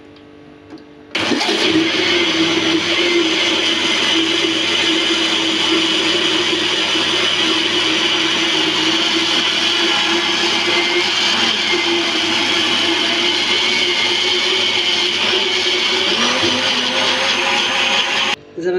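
A kitchen blender runs continuously at a loud, steady whine while oil is drizzled in through the open lid to make chocolate sauce, starting abruptly after a brief quiet moment and cutting out near the end.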